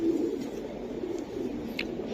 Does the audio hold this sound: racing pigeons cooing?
yes